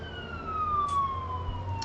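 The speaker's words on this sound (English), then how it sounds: "I live directly across the street from the fire station, so probably going to be hearing some sirens" A fire engine siren rises and falls near a fire station across the street, its wailing tone sweeping steadily down over a low traffic rumble.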